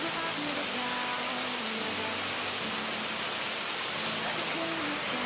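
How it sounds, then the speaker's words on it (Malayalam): Heavy rain falls outdoors as a dense, steady hiss that stays even and loud for the whole stretch. No one speaks over it. "ഒരു പ്രത്യേക വെളിയിൽ നല്ല മഴയൊക്കെ ഉണ്ട്."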